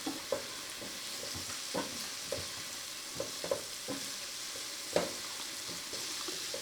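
Onions and peppers frying in a pot, a steady soft sizzle broken by repeated stirring clacks and scrapes at irregular intervals, nearby and without talk.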